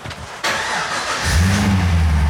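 A car engine cranks briefly then catches, settling into a loud, close, rumbling idle with a low steady hum.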